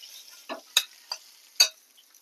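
Rohu fish pieces being stirred in oil in a pan: a few quiet, separate scrapes and clinks of a spatula with only faint sizzling between them.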